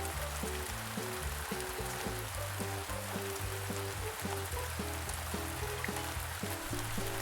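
A cartoon sound effect of heavy rain pouring outside, an even broadband wash of patter continuing for several seconds under repeating soft musical tones, no voices present.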